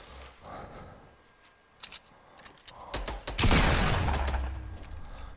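Fortnite gunfire as a player is shot at from a bush: scattered sharp cracks early on, then a louder burst of shots with a crashing impact, fairly close.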